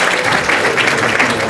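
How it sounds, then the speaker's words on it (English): Audience applause at a guest lecture by a Macedonian foreign minister at a university, a steady dense clatter of clapping hands throughout, fairly loud and continuous with no pauses. "please join me in applause"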